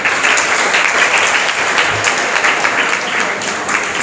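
An audience claps steadily at a school academy award ceremony for a prize winner, continuous dense applause heard fairly close with no talk over it.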